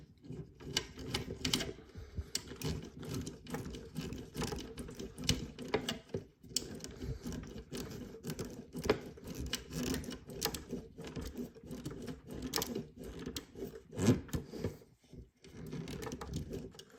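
Screws are driven in to fix a part on a scale model of KITT, the K2000 car, holding a speaker in place. Dense rapid mechanical clicking and whirring of a small electric screwdriver runs steadily close by, with a few brief pauses.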